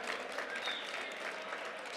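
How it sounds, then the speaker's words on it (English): A crowd claps together at a Black History Month celebration hosted by Mayor de Blasio at the American Museum of Natural History, a steady wash of applause sounding moderately distant. "just give a collective round of applause to all the members of this administration"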